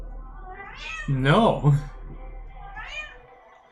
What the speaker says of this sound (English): She makes clicking sounds when she meows.